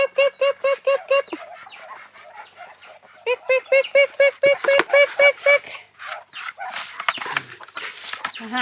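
Chickens, ducks and geese at feeding time give a run of loud, rhythmic clucks and squawks in quick bursts, close by, then scattered overlapping calls from the flock.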